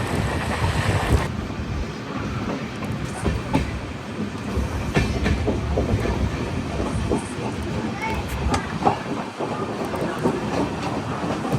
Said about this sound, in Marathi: डायरेक्ट कोल्हापूर स्टेशनला रेल्वे थांबली.